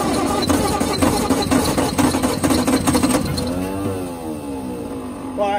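A 1962 Bedford TJ truck engine cranks over with a fast, rhythmic churning for about three seconds, then gives way to a wavering, rising and falling drone as it struggles to catch, loud and close.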